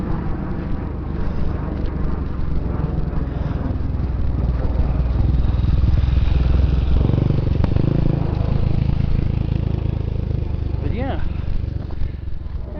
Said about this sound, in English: There's another motorbike.